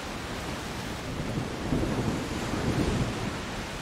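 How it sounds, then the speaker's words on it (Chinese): Rain pours steadily while thunder rumbles low and rolling through the middle in the video game A Plague Tale: Requiem, with a continuous wash of rainfall and no voices. "哦，这个雨不错哦"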